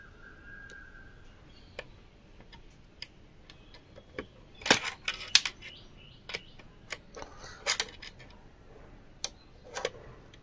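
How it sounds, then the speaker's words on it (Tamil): Screwdriver turning a screw into a Panasonic mixer jar lock switch assembly: small scattered clicks and ticks of metal on plastic, a few louder clatters in the middle, quiet and close, with no talking. "இப்போ நம்ம இன்னொரு ஸ்க்ரூ ஃபிட் பண்ணிக்கலாம்."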